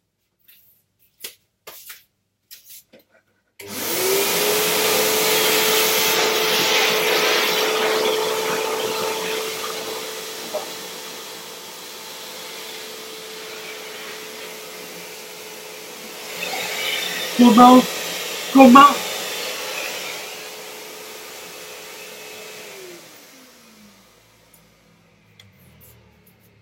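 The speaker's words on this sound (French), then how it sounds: "je vais aller passer l'aspirateur" A household vacuum cleaner switches on and runs for about twenty seconds as a steady, fairly loud whirring drone, with a couple of brief bumps near the end before it winds down and stops; a voice speaks briefly before it starts.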